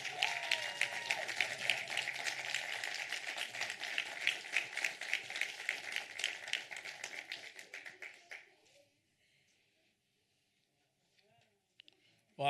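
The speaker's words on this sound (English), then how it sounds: "Wow, give it a round of applause, please." Applause from an audience at an award ceremony for the Falling Walls Lab Pretoria 2022 winner, with sustained clapping that tapers off to near silence, followed by a couple of faint taps.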